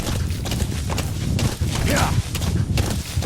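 Horse hooves clip-clop in a steady, rapid rhythm in the video game Metal Gear Solid V: The Phantom Pain, the riding sounds mixed with other game audio and someone talking over them.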